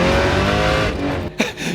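A manual Dodge Viper's engine revs loud and close, a steady roaring drone that eases off briefly before a sharp burst and settles again.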